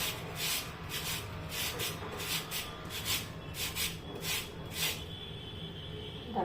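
A kitchen grater shreds soaked sabudana thalipeeth dough into long strands, giving a steady run of close, rhythmic rasping strokes that stop near the end, with no talk.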